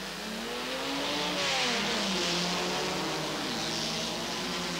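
Classic Jaguar and Lotus Elan race cars accelerate away at the 1990 Grand Prix de l'Age d'Or. Engine notes climb through the revs in a continuous, fairly loud roar that swells and then eases slightly.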